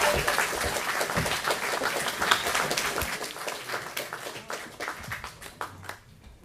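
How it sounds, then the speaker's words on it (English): Audience at a UKIP South East regional leadership hustings claps in a round of welcoming applause, a dense patter of many hands that stays steady and then thins out toward the end. "give a round of applause"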